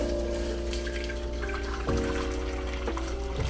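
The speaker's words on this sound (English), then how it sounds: "Strain out the tea." Steady running liquid with bright splashy texture as tea is strained out during Tibetan butter tea preparation, a continuous pour with a couple of brief clinks or knocks, close and fairly loud throughout.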